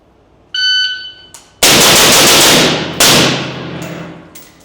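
At a shooting drill, a high electronic timer beep is followed by two loud, close gunshot bursts, each with a sharp attack and a ringing decay, plus a few faint clicks.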